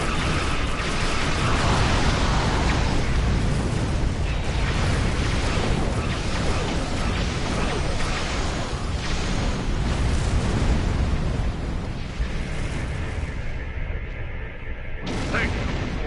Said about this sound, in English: Hey, I too can do bombardments